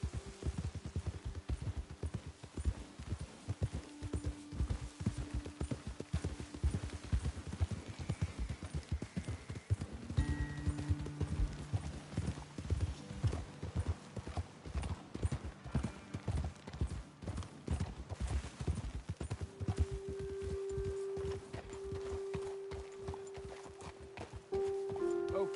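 Horse hooves clip-clopping in the video game Red Dead Redemption 2, a steady rapid rhythm of hoofbeats throughout, with faint game music tones and ambient sound underneath and no talking.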